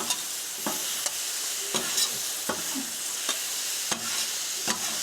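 Sweet chili Brussels sprouts being stirred on a hot griddle, a steady loud sizzle broken by regular scraping spatula strokes about every half second, close and with no talking.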